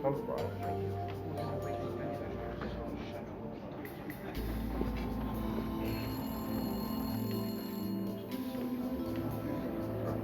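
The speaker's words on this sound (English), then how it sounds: "On cue, the phone rang." A telephone rings in a hotel bar, repeated bell-like rings held steady under a continuous background bed at moderate level.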